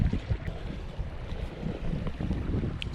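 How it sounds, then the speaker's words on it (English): Strong gusting wind buffets a kayak out on the water while fishing in a cold snap, a steady rough roar with low blustery surges throughout and no talking. "Wind is absolutely brutal, you guys."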